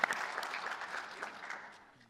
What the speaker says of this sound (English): I think we ought to applaud.